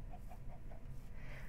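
Chickens cluck in a row of short, soft, even calls from a chicken farm in a Minecraft game, faint and steady with no talk over them.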